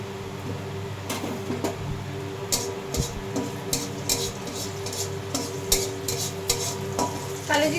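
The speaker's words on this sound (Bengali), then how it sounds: "কালো জিরেটা একটু ভাজা ভাজা হবে।" Black cumin (kalonji) seeds frying in a little oil in a home kitchen pan, a steady soft sizzle with occasional stirring scrapes and light clinks, close and continuous with no talking.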